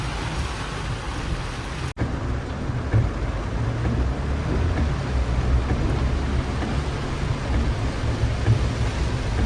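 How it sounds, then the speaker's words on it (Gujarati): Heavy rain pounds the outside of a Mahindra Thar in a downpour, a dense steady roar on the body with low rumbling thunder beneath, briefly cut off near the start. "વળી ફૂલ એકદમ વરસાદ ચાલુ છે બારે."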